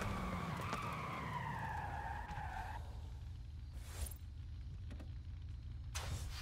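A car engine whines and shifts, then brakes with tire skids and sharp screeches in short bursts against a steady low rumble, in the racing video game Forza Horizon 5.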